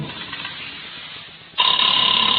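A telephone rings on the line during a call, a loud steady electronic ring tone starting abruptly after a stretch of quiet line noise.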